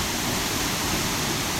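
Water rushes steadily at the Williamsport waterfall, a dense, even hiss of falling water close by that fills the short moment without pause.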